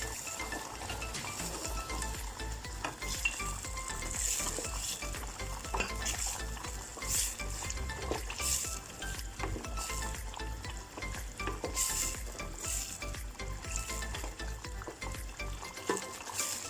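Sausages cooking in a thickening pasta sauce, a steady close sizzle and bubbling with repeated metallic scrapes and clinks of a utensil stirring the pan, no talking.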